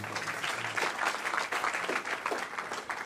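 Audience at a T3chFest 2016 tech talk on hacking and RFID claps steadily for about three seconds, a dense, fairly loud patter of many hands with no voices over it.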